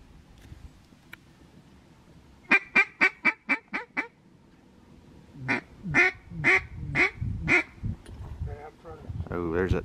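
Ducks quack in two quick bursts of five or six calls each, fairly close, during a Kentucky duck season opener hunt, with quiet talk and background noise between the runs.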